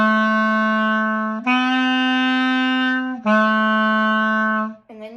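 A clarinet holds a sustained D, moves to a long B, then returns to the D, clear and close, ending with a short breathy note.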